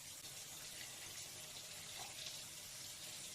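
Water poured from a tap into a cooking pot of rice and stock for Ghanaian jollof rice, a steady close gushing hiss lasting the whole few seconds with no talking.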